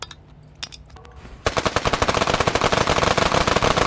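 Rapid automatic gunfire from a weapon in a pixel simulator video game, heard as a loud, fast, unbroken string of shots that starts abruptly after a quiet lead-in with a few faint clicks.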